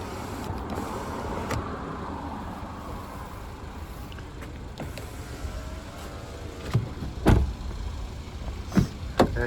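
Electric power window on a 2019 DS 7 Crossback, a top-spec car, humming steadily through its travel inside the cabin, with faint clicks and a couple of sharper knocks near the end as the glass stops.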